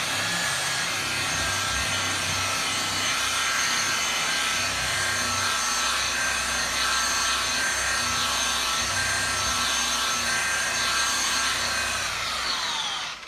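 A single action buffer polishes car paint with a steady, loud, whirring hum that holds constant throughout, close up and without speech.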